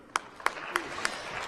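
Conference audience applauding a panel at a Speak For Africa event, heard as a handful of separate claps spaced evenly over a faint room background.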